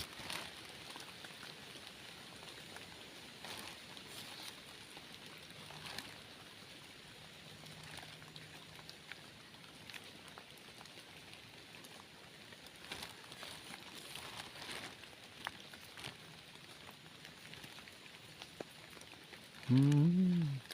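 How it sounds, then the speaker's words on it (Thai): Soft, steady rain patters and hisses in the background for a long stretch, and a voice briefly speaks at the very end. "โอ้ยฝนตกมาพี่น้องเนาะ"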